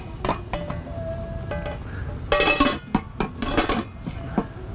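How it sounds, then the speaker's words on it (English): A lid is set onto a pot of chili with beans cooking outdoors on a hot August day, giving a short burst of metallic clatter and clinks over a steady background sizzle. "put our lid on"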